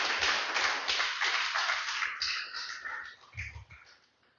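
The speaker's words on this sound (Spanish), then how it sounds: "Denle un fuerte aplauso al Señor una vez más" A congregation at a church service applauds, the rapid clapping fairly faint and fading gradually over a few seconds.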